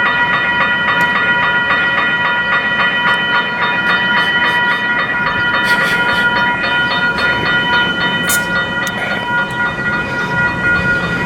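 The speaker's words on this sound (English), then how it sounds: "that train is departing," A train pulls out of a vintage-style station exterior, its loud, continuous rail rumble carrying sharp clacks and a few bright, high accents over the steady roar.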